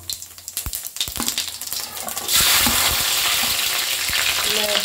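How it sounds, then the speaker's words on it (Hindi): Cumin seeds added to hot oil for dosa potato masala: a few light clicks and taps, then a sudden loud, steady sizzle that fills the rest of the moment. "जीरा डाल दिया"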